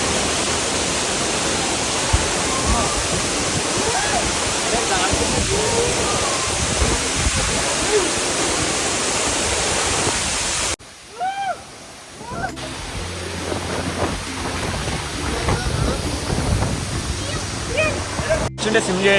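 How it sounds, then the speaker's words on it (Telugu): Gundala waterfall in Telangana roars as a loud, dense, continuous rush of falling water, then drops away abruptly to quieter outdoor ambience with faint bird calls and distant voices. "అది వాటర్ ఫాల్స్."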